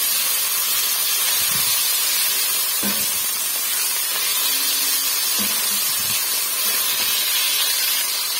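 Chopped liver hitting a hot pan and being stirred and tossed, giving a steady broadband hiss with a few soft scrapes and clacks of the utensil, close and constant throughout.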